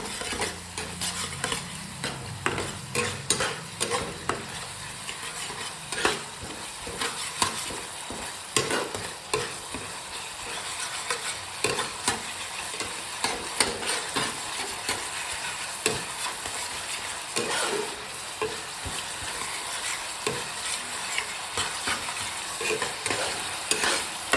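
Fish mixture with turmeric being mashed for fish fritters, a long run of repeated scraping, pressing and clattering strokes over a faint continuous hiss, with no voices.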